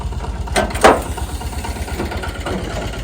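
A Dongfeng 244 DG2 mini tractor with a KM385 engine idles steadily with a low, rumbling drone, briefly louder for a moment near the start, running alone without talk.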